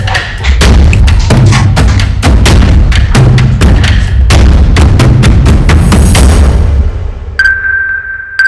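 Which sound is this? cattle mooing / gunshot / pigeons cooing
gunshot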